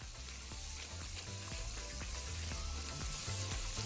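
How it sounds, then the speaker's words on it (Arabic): Bell peppers and onions being stir-fried in a pan for red vermicelli rice, with a steady, fairly quiet sizzle broken by repeated soft scrapes and taps of a spoon against the pan. "كده الفلفل مع البصل بيتقلب كويس يدبل كده وريحه الفلفل تبان."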